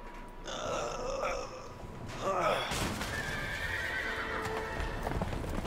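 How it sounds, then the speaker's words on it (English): Horses in the video game A Way Out neigh loudly as they escape, with a long whinny and snorting over steady clip-clopping hooves; no one speaks. "the horses are escaping"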